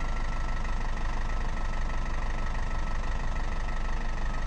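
A steady, droning off-road vehicle engine in a video game, labouring in first gear up a slope, with a continuous loud low rumble that stays even throughout, with no voices.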